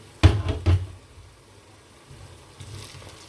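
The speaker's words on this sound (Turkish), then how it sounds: "dışarıda gürültü var. Mobilya falan kırıyorlar." Knocking from furniture being broken outside, heard as two loud, close thuds early on, then fainter scattered knocks and rumbling afterward.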